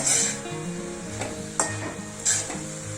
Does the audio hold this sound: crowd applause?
no